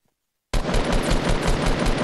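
Sustained automatic gunfire from a Fortnite battle royale match bursts in abruptly after a brief silence, a dense rapid stream of shots that stays loud to the end.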